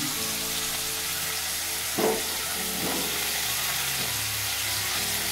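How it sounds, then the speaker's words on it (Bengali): Sliced capsicum and onions hit a hot pan for Bhutanese ema datshi, giving a continuous close sizzle with a brief louder burst of stirring partway through and softer scrapes after. "আমি এরপর এই যে কেটে রাখা, ধুয়ে রাখা, স্লাইস করে রাখা ক্যাপসিকাম এবং পেঁয়াজগুলো দিয়ে দিচ্ছি।"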